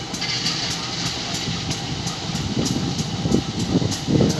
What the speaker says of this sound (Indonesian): Ini lokomotif CC